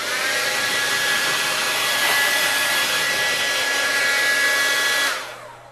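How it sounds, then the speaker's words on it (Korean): Hair dryer blowing on hair, a loud steady close-up rush of air with a thin whining tone that holds for about five seconds and then cuts off, no voices. "그 다음 뜨거운 바람을 이용해서 또 말려줍니다. 이렇게 번갈아 가면서 말려주는 거예요."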